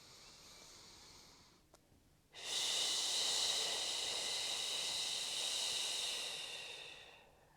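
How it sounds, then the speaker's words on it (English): After a faint breath, a long steady shushing exhale through the mouth, like a soft ocean hiss, close and sustained for several seconds. "on the exhale through the mouth, you're making a sound like shushing or like the sound of the ocean"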